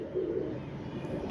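A flock of pigeons coos softly nearby, a low murmuring warble over faint background hum.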